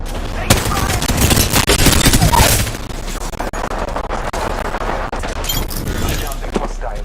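Dense automatic gunfire and bursts of shots in an Apex Legends match, loud and near, a heavy barrage for the first few seconds that settles into steadier rapid fire.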